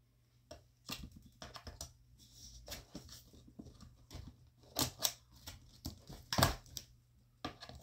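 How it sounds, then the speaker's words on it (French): Scissors snipping through the packaging of a Logitech G435 SE wireless headset, a close, dry run of irregular clicks and crisp cuts with short pauses between them. "Donc on va prendre des ciseaux."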